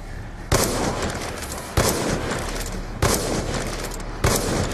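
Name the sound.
gunfire in the Black Ops 2 Zombies video game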